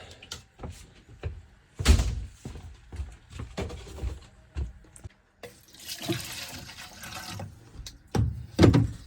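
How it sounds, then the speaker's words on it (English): Water is poured down the drains of a 2001 Monaco motorcoach to fill the P-traps, irregular splashing and gurgling pours with knocks and handling clatter, close by, with a longer steady pour midway. "That's gonna be plenty for your P-traps. Just pour it down."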